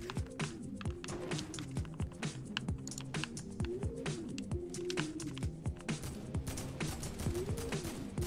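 Rapid, faint gunfire crackles steadily through a Fortnite match, a dense clicking patter of distant shots under game music with no talk.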